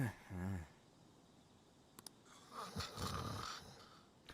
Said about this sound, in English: Why do you all snore?